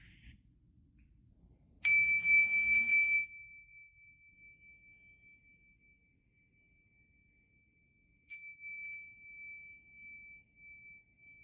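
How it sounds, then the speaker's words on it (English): A mindfulness bell rings twice to open a meditation practice, each strike a clear, sustained ding that hangs and slowly decays in a quiet room, the second stroke arriving several seconds after the first. "And so I will ring our bells and our practice begins."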